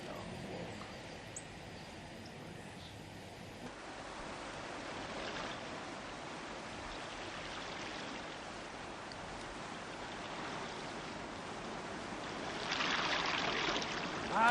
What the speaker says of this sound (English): That's the river tumbling over some rocks about a mile below us.